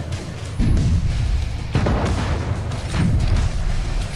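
Ship cannon shots in the naval video game Battle Bay: a few heavy, low booms fire in succession, each followed by a rumbling roll, over a dense constant background with no talking.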